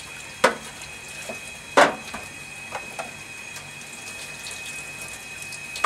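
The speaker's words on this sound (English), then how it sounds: "just run the water across the back of it like that" Tap water runs steadily over the back of an upturned sieve from a Healthstart Compact Juicer, making a soft, even hiss close by, broken by a few sharp knocks of plastic.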